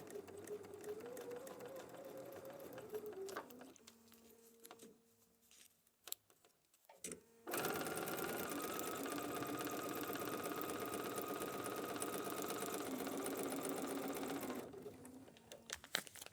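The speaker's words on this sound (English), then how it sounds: "we are going to sew directly on that line with our shortened stitch length" A sewing machine stitches through fabric and foundation paper on a short stitch length, first a quieter run, then a pause with handling noises, then a long steady burst of rapid stitching close by.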